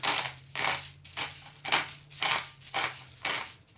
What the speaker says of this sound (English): Now we're going to pour a bunch of cayenne, black pepper.